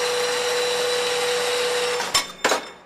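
Half-inch iron rod being cut to length with a power tool: a steady, loud whine runs for about two seconds, then two short separate bursts of cutting follow near the end.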